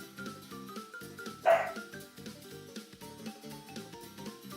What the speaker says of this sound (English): He can bark pretty loud.